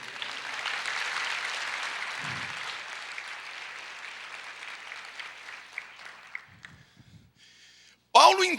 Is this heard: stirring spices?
no